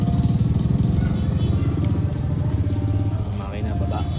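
UM Renegade Sport 200cc motorcycle with a transmission fault, its engine running with a loud, steady low throb close by, voices talking over the rumble.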